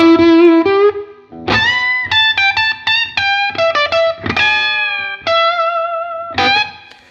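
Electric guitar running through a Fender 1955 amp plugin with reverb plays a bluesy phrase of bright, slightly driven single notes and short double-stops, with reverb tails between the phrases.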